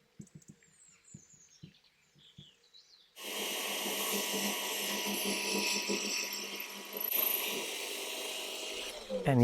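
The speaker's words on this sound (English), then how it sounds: "And yes, I set the depth so I wouldn't drill straight through the rod." A power drill bores a depth-limited hole into a metal rod held in a homemade jig, a steady loud whirring grind that starts abruptly after a few seconds of faint shuffling and runs continuously to the end.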